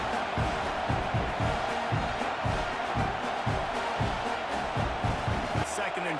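Home crowd in a college football video game cheering steadily throughout, a dense, loud roar with rhythmic pulsing, like chanting or stomping, underneath.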